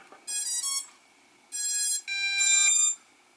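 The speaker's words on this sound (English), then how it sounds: "The controller will beep and you have a solid connection here." Three bright electronic beeps from a drone controller connecting, the first split into a short double tone, each sustained under a second with brief gaps between, clear and close.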